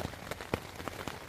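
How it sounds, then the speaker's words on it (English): Heavy rain drumming on a tarp shelter at a pine forest camp, irregular close patters and drops in a short burst. "it is still raining like crazy"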